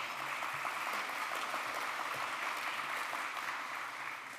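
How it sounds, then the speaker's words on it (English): An audience at a college moot court demonstration clapping, a fairly faint, even wash of applause that holds steady and thins slightly at the end. "yes, please do clap"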